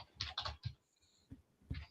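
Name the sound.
typing on a computer keyboard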